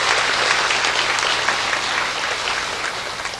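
A church congregation at a pastor's inauguration service applauds warmly, a full, dense wash of clapping that stays loud and steady before easing slightly at the end.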